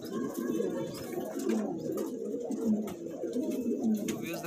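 King pigeons, including a Maxi King, cooing in a loft, a steady low burble of overlapping coos with faint murmuring voices underneath.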